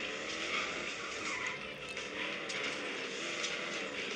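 A racing car in a video game revs hard and accelerates with a loud, sustained engine drone, joined by bursts of tire squeal and skidding throughout.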